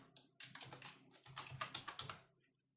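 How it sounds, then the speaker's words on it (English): Typing on a computer keyboard to enter a username and password into a registration form, a quick burst of soft, close key clicks that pause briefly and resume, alone without speech. "So we just should type the username, some user, and the password"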